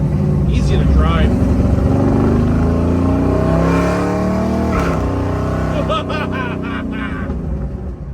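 A 1972 Chevrolet Nova hot rod with a high-stall torque converter accelerates down the road, its engine note climbing and sweeping loudly under someone talking excitedly.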